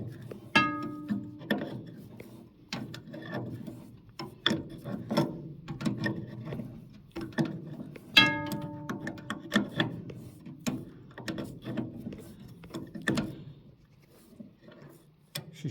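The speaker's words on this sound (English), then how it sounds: "Look, there's the adjuster. And I've got to wind him up." Adjuster on a Massey 780 combine being wound up by hand, giving repeated ratcheting clicks and metallic rattles in an uneven rhythm, close by and moderately loud, with a few brighter clanks partway through.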